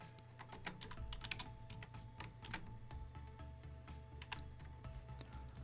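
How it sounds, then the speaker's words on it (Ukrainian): Fingers type on a computer keyboard at close range, with quick irregular key clicks and a few sharper taps throughout, quiet and with no talking. "тоді пишемо двокрапку та натискаємо Enter"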